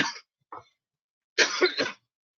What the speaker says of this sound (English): this is not COVID cough, it's allergies.